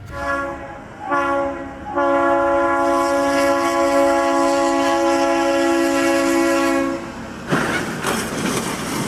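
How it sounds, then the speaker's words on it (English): A loud, sustained train horn blares for several seconds after a couple of short toots, with rumbling rail noise underneath. "started filming the scene just as the train horn blared"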